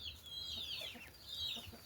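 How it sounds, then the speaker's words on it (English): Young duck chicks at a farm hatching site give a few faint, high chirping peeps over a low background murmur. "These are duck chicks."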